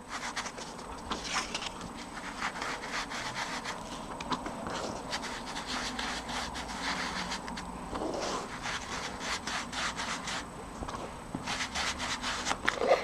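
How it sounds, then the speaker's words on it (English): A sponge dabbed with ink being rubbed quickly around the edges of a paper card, giving a soft, rapid, steady scuffing and brushing that is close and fairly quiet, with no talking. "I'm just going to just rub around those edges very quickly"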